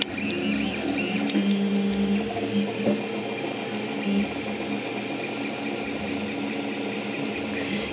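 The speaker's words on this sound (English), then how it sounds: "it is printing the actual structure of the castle now" A 3D printer builds the main structure of a large Hogwarts castle replica, its steady mechanical whir and stepper-motor hum running continuously at close range, with faint rhythmic clicks and no talk.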